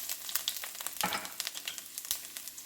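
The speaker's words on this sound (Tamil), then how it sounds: "தேவையான அளவு கருவேப்பிலை போட்டு நல்லா வதங்க விடணும்" Curry leaves sauté in a pan for a prompt for Sura Puttu shark dish, giving quiet, irregular crackles and pops with a brief louder burst of sizzle midway.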